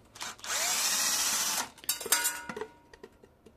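A power drill whirs steadily for about a second while unscrewing the loudspeaker from a Radmor CB radio, followed by clicks and rattles of small parts being handled nearby.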